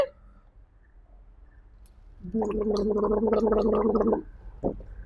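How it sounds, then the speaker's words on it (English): A child gargles in a steady bubbling burst lasting about two seconds, loud and close, followed by a short gurgling blip. "And how did he gargle?"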